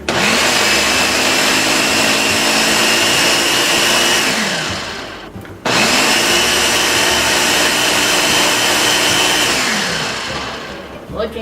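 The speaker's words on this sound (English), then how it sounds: "And now we will blend it, and it'll turn into a green soup." A blender whirs loudly and steadily as it purees leafy greens and water into a green soup, cutting out briefly midway before starting again at full power and running on to a gradual stop.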